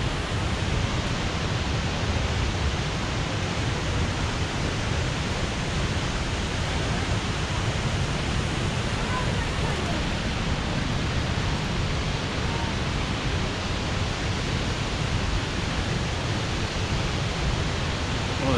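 Steady broadband rush of a mountain creek flowing beside a hiking trail, an unbroken wash of water noise that stays even and close throughout the long stretch, with no voices over it.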